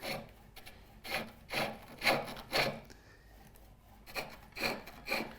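Turning tool cutting V notches into a wooden chair leg on a lathe, a series of rhythmic scraping cuts in two bursts separated by a brief pause, fairly quiet and close.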